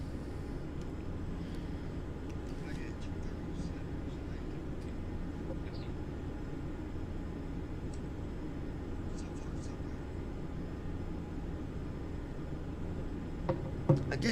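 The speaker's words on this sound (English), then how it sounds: "You can hear the jet, the cockpit in the background," A CRJ700 jet cockpit in Microsoft Flight Simulator X gives off a steady, low engine drone and cabin rumble in the background. It stays constant and fairly quiet, with a person talking over it.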